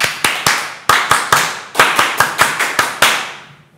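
Scout-style rhythmic group clapping, the tepuk pramuka, with sharp in-unison claps in a patterned rhythm of about fifteen beats, some doubled in quick pairs, close and loud with no talk.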